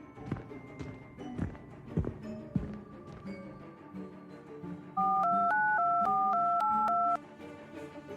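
A cell phone sends a quick run of dialing tones, six or seven short beeps in an even rhythm, after a few scattered knocks and handling sounds in a quiet room.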